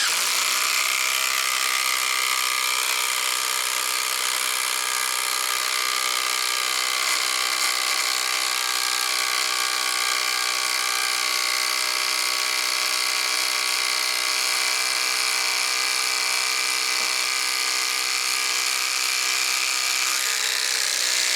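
A Ridgid/AEG sub-compact impact driver sinks a big batten screw, a loud continuous high-pitched whirring hammer buzz held steady and close for about twenty seconds with no talk.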